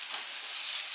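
Ginger garlic paste fries with onions in a pan for a prawn masala, a steady, soft, hissing sizzle with no pauses and no voices.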